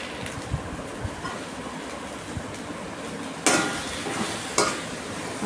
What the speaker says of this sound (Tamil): கொஞ்சோண்டு எண்ணெய் ஊற்றி நல்லா சுருளை வதக்கிக்கோங்க வதக்கி விட்றேன் பாருங்கள்